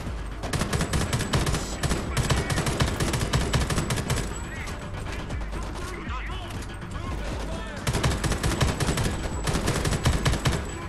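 Sustained automatic gunfire from the shooter game Homefront: The Revolution, dense overlapping bursts rattling continuously for the full stretch, loud and close, with a brief thinning midway before the firing picks back up, and a voice talking over it.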